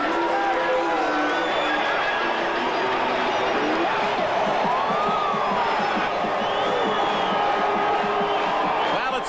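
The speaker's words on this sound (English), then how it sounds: "It's a pro-Calgary crowd here at Taylor Field for this 83rd edition of the Grey Cup, and they're delighted with this touchdown run by Doug Flutie." A loud pro-Calgary stadium crowd at Taylor Field roars and cheers after a touchdown run in the Grey Cup football final, a dense sustained din with whoops and shouts rising above it.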